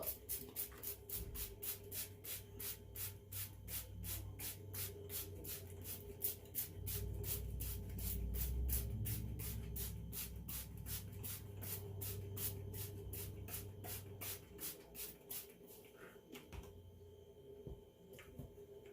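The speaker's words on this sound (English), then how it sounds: "And I'm going to spray it down to get it wet." Spray bottle misting water onto dry potting mix for ZZ plants: a long run of quick, evenly spaced trigger squirts, close and crisp, each a short hiss, stopping near the end with soft handling noise.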